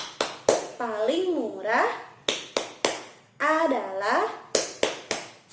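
Young children in a first-grade class clap a 'tepuk senyum' chant, with sharp, close bursts of claps between rising sung voices. The pattern repeats twice.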